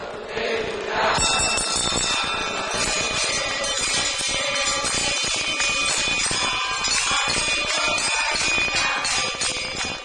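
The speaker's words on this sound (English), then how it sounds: "A bell is rung to attract the god's attention." A bell at a Hindu temple to Ganesh and Shiva rings in a dense, continuous clangour, loud and close, blended with crowd murmur and other reverberant temple noise.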